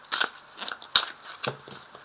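Tarot cards are laid out on a table in several quick, crisp snaps and slides, each a short papery flick, with small rustles between them.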